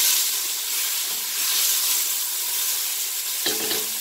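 Cuban sofrito sizzles steadily in a pan, a bright continuous frying hiss up close, with a brief clatter near the end.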